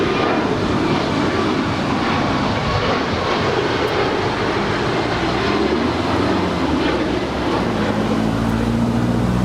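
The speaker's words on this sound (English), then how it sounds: "Up first, JetBlue Airways flight 1524 heading to JFK. It's an A321neo." A JetBlue Airways Airbus A321neo jet departs from Los Angeles LAX with a loud, close, continuous engine roar and a low tone that sweeps downward as it passes.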